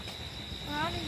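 Crickets chirp in a resort garden at Jaflong, a steady high, thin trill that stays constant through the brief moment, with faint background noise around it.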